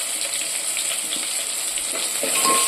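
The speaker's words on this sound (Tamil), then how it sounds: "கருவாட்டை எண்ணெயிலே போட்டு வதக்கிடுவேன்" Dried fish frying in oil makes a steady, close hiss and sizzle throughout, soft and continuous with no voices.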